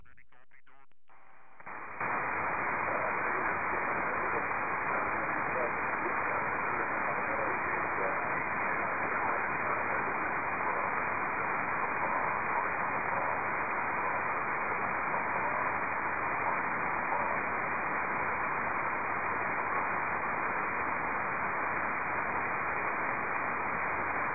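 Steady hiss of radio static fills the air after a brief click, a constant band-limited roar continuing unbroken and fairly loud with no clear voice through it.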